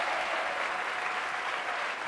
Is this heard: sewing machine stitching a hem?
no